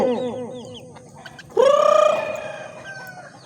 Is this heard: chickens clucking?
yes